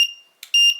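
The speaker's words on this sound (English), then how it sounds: "and the alarm's sounding." A four-digit, two-button clock kit sounds its alarm: a piercing high electronic beep pulsing in short repeated bursts, loud and close, alone without talk.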